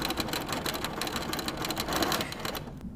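A sewing machine stitches a scant quarter-inch seam on a quilt block, running in a steady, close, continuous mechanical whirr with rapid needle clatter before stopping abruptly at the end.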